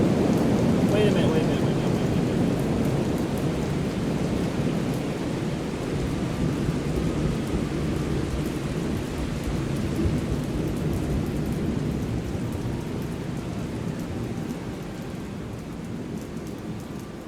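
Steady rain and rolling thunder from a thunderstorm sound effect triggered during a game livestream, a dense continuous roar at even loudness that fades slightly toward the end.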